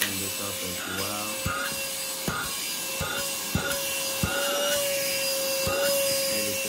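A small cordless handheld car vacuum cleaner runs with a steady whining motor hum, punctuated by repeated sharp knocks and rubbing clicks as the nozzle is handled and pushed into tight spots.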